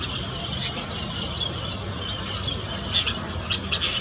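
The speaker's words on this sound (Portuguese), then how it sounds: "esses periquitos de encontro amarelo barulhentos estão se alimentando do fruto" Yellow-chevroned parakeets feeding on embaúba fruit in an urban park at dawn, giving repeated shrill squeals and squawks over a steady hiss of background noise, several calls bunching together near the end.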